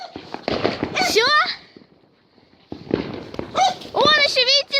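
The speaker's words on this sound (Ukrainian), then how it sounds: "Он еще, видите, далеко. Вот еще какой-то летит. Везде салюты!" New Year's Eve fireworks bursting in the distance, faint pops and crackles heard beneath nearby excited talking and whistling.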